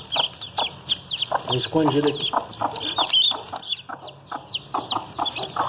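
Newly hatched chicks peep rapidly and repeatedly with hens clucking among them in a coop, close and lively, while a person speaks briefly over the chirping.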